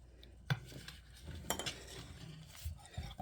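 Ingredients mixed in a bowl with a spoon for a healthy snack recipe, with garlic paste added: scattered clinks and scraping knocks of utensil against the dish, soft and close, no talking.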